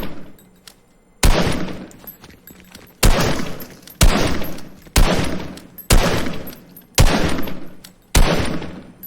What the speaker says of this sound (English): Picking up the weapon and firing.